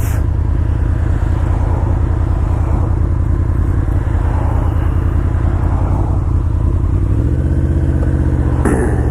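A 2005 Yamaha V-Max motorcycle, rated at 120 horsepower, runs steadily on a first test ride, its low engine rumble constant and loud throughout, with a brief clatter near the end.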